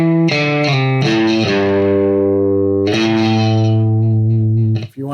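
Electric guitar with a distorted, chorused tone picking the minor version of an easy two-finger scale: a handful of sustained, ringing notes struck one after another, loud and close, with no talking over them.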